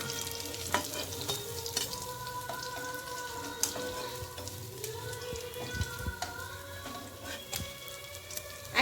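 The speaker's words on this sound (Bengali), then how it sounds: "এইভাবে উল্টে পাল্টে আমরা মাছগুলো ভেজে নেব" Pabda fish frying in hot oil in a pan and being turned over, giving a soft continuous sizzle with sharp spattering pops and a few clinks of the utensil, close but fairly quiet.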